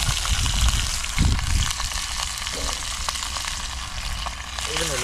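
Fish fries in a hot pan with oil, a loud, continuous crackling sizzle close by, with a few bumps of stirring and handling near the start.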